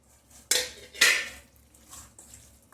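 A spoon scrapes and clinks against a bowl while mixing chicken marinated with spices and fried onion, two sharp clanks followed by softer scraping stirs, close up with no talk.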